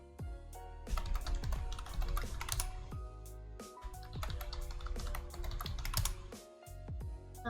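Rapid keyboard typing at a computer while entering a cheat code in The Sims 4, a steady run of close clicking keystrokes over game music, with a few short pauses between bursts.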